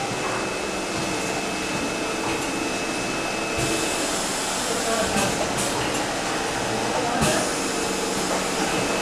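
An S 1000F screen printing machine runs with a steady, dense mechanical whir and hum, broken by a few brief clunks and shifts in tone.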